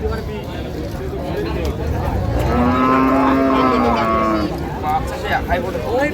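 An improved-breed dairy cow at the Raniganj cattle market in Dinajpur lets out one long, loud, drawn-out moo close by, rising over the steady murmur of a crowded market with voices talking throughout.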